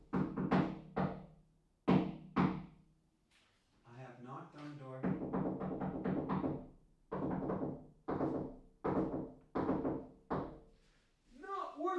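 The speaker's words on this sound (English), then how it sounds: "You can probably hear that knocking on the microphone." Firm knocking on a door picked up by a nearby microphone, irregular clusters of sharp thuds repeated over several seconds, with a voice talking in between.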